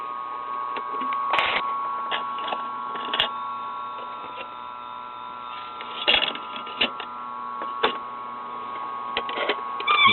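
A 1974 kiddie record player, cleaned and lubricated, spins a 45 record with a steady mechanical hum and a few sharp clicks and ticks spread through it, close up with no voices.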